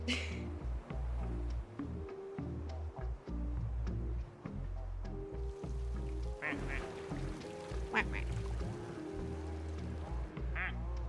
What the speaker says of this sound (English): all the other ones have, like, real duck sound, but then they're fake ducks